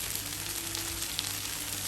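Chicken malai boti sizzles on a griddle, a steady soft hiss of frying at low level with no talking.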